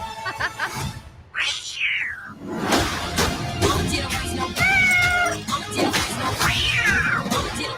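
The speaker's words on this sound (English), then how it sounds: "Meow, Nika." A cat meows several times, with rising and falling cries, amid background chatter and noise.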